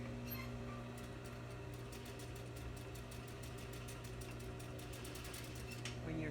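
A sewing machine stitches fabric around a garment neckline, a steady mechanical hum with a fast, even rhythm of stitch ticks, close and fairly quiet, running without pause for several seconds.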